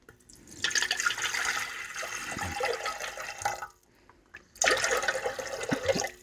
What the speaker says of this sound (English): we add an amount of water